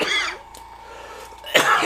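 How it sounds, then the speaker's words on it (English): A person coughs twice, one harsh cough at the start and another sharp one near the end, with a quiet stretch and faint background hum between them. "Sorry about my cough. It's back."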